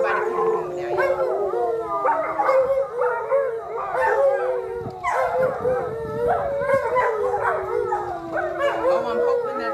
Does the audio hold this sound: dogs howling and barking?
yes